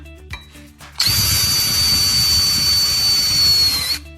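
Electric screwdriver fitted with a magnetic ring driving a screw, a steady high whine running about three seconds after a few faint clicks, loud and close.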